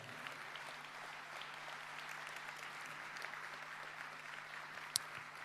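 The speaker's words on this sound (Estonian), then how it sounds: "Kord veel aplaus teda kõikidele päevakangelastele ja Rae vallale" Applause for award winners at a Rae parish anniversary ceremony: a steady, fairly distant crowd clapping that holds evenly throughout, with one sharper clap near the end.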